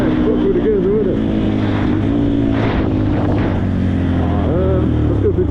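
A Benelli 125 motorcycle engine drones steadily and loudly as it accelerates through the gears, its pitch rising and dropping with each shift, while a rider's voice is heard over the engine.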